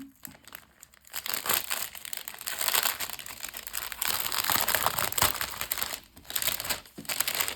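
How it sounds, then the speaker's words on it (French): Plastic packets of cross-stitch embroidery thread torn open and handled, loud continuous crinkling and crackling with brief pauses, close by and without talk. "ça va faire du bruit parce qu'on va ouvrir les fils"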